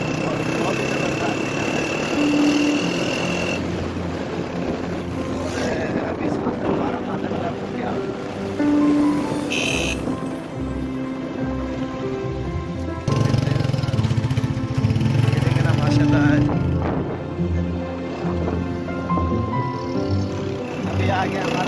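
Motorbike engine while riding toward a farm on the edge of Dera Ghazi Khan, a steady mid-pitched drone with shifting revs, heard continuously under someone talking.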